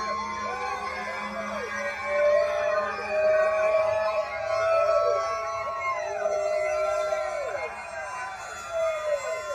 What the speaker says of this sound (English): the siren goes off at the Dawsonville pool room